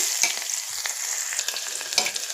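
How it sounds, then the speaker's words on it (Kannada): Chopped onion frying in hot oil with mustard seeds and cumin, a constant crackling sizzle broken by occasional stirring scrapes, close and without speech. "ಈರುಳ್ಳಿ ನೀಟಾಗಿ ಫ್ರೈ ಆಗಬೇಕು ಈ ಥರ ಫ್ರೈ ಮಾಡ್ಕೊಳ್ಳಿ"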